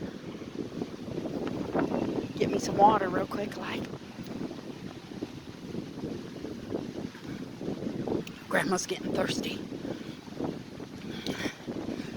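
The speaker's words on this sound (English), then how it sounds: "I'm really sorry about the wind, you guys." Gusty wind buffets the microphone on a walking trail beside a highway, rumbling in uneven surges while someone speaks over it.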